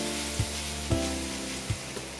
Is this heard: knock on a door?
no